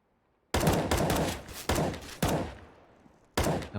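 An AK rifle fires in Counter-Strike on the Train map during a tournament match: five sharp, separate taps spread over a few seconds. The shots stand alone with no talk.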